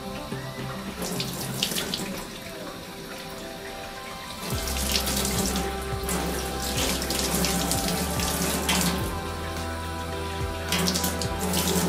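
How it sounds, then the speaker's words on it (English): Tap water runs steadily into a sink during a surgical hand scrub while a nail pick cleans under the nails. The constant splashing stream deepens into a fuller, lower gush about a third of the way in. "with your nail pick, you wanna pick under each nail under running water"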